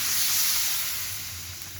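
Spices frying in a pan for a hilsa fish curry with drumstick-like stalks give a steady, close hiss and sizzle that fades slightly over a brief moment, with no voices.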